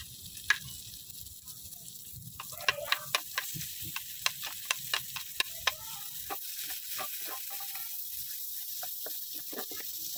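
Garlic sizzles in melted butter with annatto seeds in a pan for Filipino garlic fried rice, a soft steady hiss broken by sharp, irregular clicks and scrapes of stirring.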